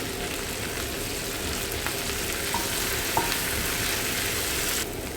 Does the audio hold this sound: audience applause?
no